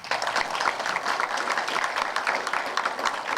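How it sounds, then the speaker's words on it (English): A short burst of steady applause from a room full of people at a university business college event, dense clapping at an even level throughout. "I'd like to give you a nice round of applause"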